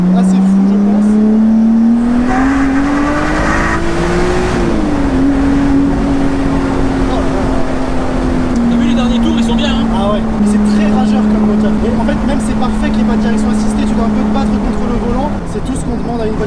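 A Lotus Exige V6 S 3.5 sports car engine drones loud and close, its pitch climbing under acceleration, then easing and holding steady as the sound reflects off a nearby wall.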